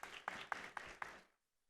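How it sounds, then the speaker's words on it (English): Applause from a conference audience at an opening session in a Hilton hotel hall, a short burst of clapping with a few sharper peaks that dies away abruptly after about a second, leaving near silence. "Round of applause, please."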